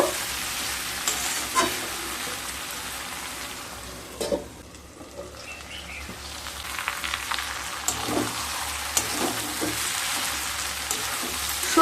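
Chopped pumpkin greens stalks and vegetables sizzle in a pan while being stirred, a steady close frying hiss broken by scraping spoon strokes and a brief quieter dip, no voices.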